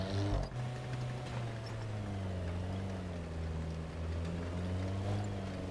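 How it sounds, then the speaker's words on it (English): A steady, droning engine of the British Striker missile vehicle in the game War Thunder hums continuously with a low rumbling tone, shifting slightly in pitch, loud and close throughout. "So not only is this engine annoyingly loud,"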